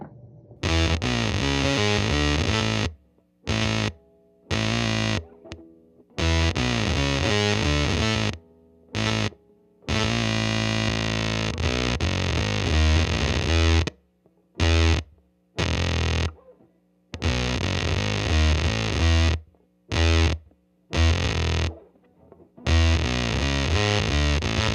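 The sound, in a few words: guitar through homemade sub octave fuzz pedal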